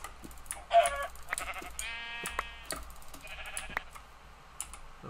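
Sheep in a video game bleat in several close, wavering calls one after another, mixed with quick keyboard clicking from the player.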